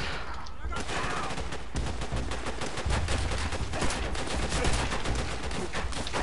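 Sustained suppressing gunfire in Call of Duty: World at War, dense overlapping shots and machine-gun bursts crackling continuously at close range, with a voice faintly mixed in.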